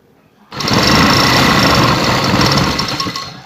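A sewing machine starts up and runs steadily and loudly, stitching a decorative border onto the hem of a long shirt with a fast, even mechanical whir.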